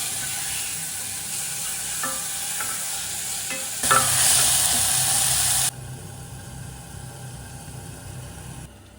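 Tomatoes and salt sauté in a hot pan with a steady frying sizzle and occasional stirring scrapes, growing briefly louder midway before settling back to a quieter hiss.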